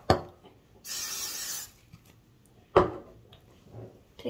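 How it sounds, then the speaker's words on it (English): Short, soft spray bursts of liquid onto napkins for a stress ball craft, heard close in a quiet room between small handling clicks. "I'm gonna spray every individual napkin."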